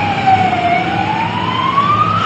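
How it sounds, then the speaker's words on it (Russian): Emergency vehicle siren in a city street, a single loud, close wail slowly rising and falling in pitch over traffic rumble. "бегают, ездят милиции, полиции и скорая помощь"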